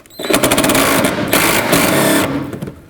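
A power ratchet or impact tool whirs loudly and continuously while backing a 10mm bolt out at the bumper and fender edge of a 2007-2009 Saturn Aura, close up and steady for about two seconds.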